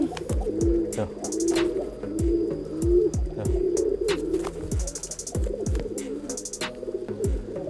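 Pigeons coo repeatedly in low, throaty bursts, with sharp knocks and rustling mixed in and no talk.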